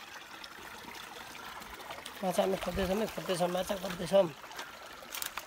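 A shallow stream flows with a steady, soft rush through the whole scene while people fish in it. Voices talk loudly over the water in the middle stretch.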